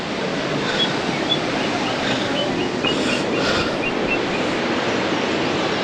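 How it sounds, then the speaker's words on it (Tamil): Water rushing down a mountainside on the route from Tiruvannamalai to Ladakh, a loud, steady broadband roar that fills the whole stretch without pause and carries no voices. "அது தண்ணி ஊற்றுதுங்களா"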